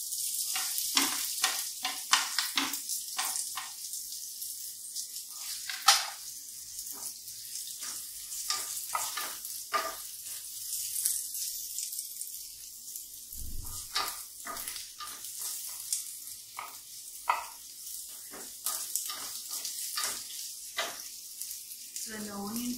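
Onions frying in a pan give a faint, hissing sizzle broken by frequent scrapes and stirring clicks, with occasional low thumps, close and quiet over a long stretch.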